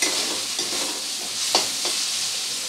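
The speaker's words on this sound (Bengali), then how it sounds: "এবারে খুব ভালোভাবে মিশিয়ে নেব সব কিছু একসাথে।" Ground ginger, garlic and green chilli paste gets stirred into frying pointed gourd for potol korma: a constant bright sizzle with a few soft scraping strokes, close up and brief, without speech.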